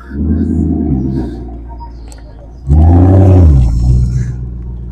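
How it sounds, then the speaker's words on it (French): A Maserati GranTurismo engine starts with a deep, roaring rumble that swells suddenly midway, over a low background drone with faint voices at a car club gathering. "Maserati Grand Cabrio qui démarre juste à côté."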